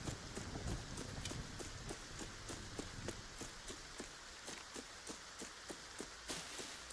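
Steady rain hiss from a video game runs throughout, with frequent short crackling ticks and soft impacts scattered over it and a low rumble early on.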